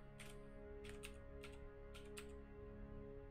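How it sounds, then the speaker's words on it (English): Fast clacking keystrokes on a mechanical keyboard, several short bursts of clicks over a steady electronic hum, close and fairly quiet. "I have a mechanical keyboard."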